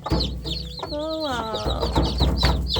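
A hen clucks close by as she tends her chicks, with a run of repeated clucks and one drawn-out, rising call in the middle.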